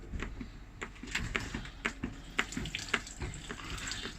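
Water runs from a 1979 Millard caravan tap fed by a 12 volt pump, a close splashing trickle with irregular spurts and taps against the sink, with no voices.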